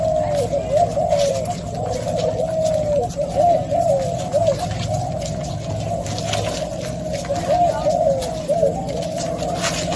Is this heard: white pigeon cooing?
yes